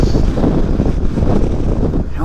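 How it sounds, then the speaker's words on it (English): Wind buffets the microphone continuously during a Goldwing trike ride, a loud broadband rumble that holds steady with only small gusting swells. "Oh, it's windy."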